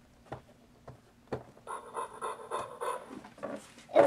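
A Fisher-Price Little People talking toy orangutan plays a short electronic panting sound, like a dog breathing hard, heard as a few faint puffs and then a louder, denser burst of rapid huffing near the end.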